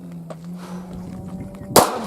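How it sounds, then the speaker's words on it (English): A handgun fired at a shooting target on a range: one sharp, loud shot cracks near the end after a quiet stretch, with no talking. "This should take me about 6 seconds to put 6 rounds on target"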